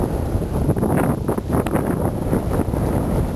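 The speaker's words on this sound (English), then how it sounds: "Look at this wind, too." Blizzard wind gusting hard during heavy nighttime snow, roaring and buffeting the microphone in steady, loud, close waves with no break.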